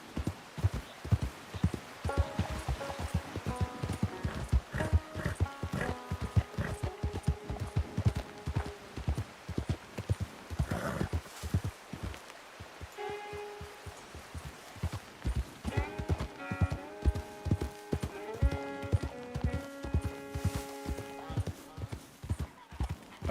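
Horse hooves in the video game Red Dead Redemption 2, a steady, evenly paced clip-clop of a ridden horse that runs close and loud through the whole stretch, with tonal game music layered underneath.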